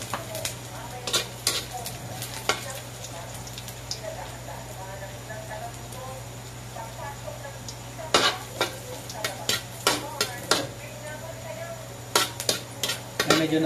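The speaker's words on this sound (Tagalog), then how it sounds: "Unahin na po natin igisa ang luya." Ginger sautés in hot oil for chicken feet adobo, a low steady sizzle under a constant hum, punctuated by frequent sharp utensil clicks and scrapes against the pan, close by.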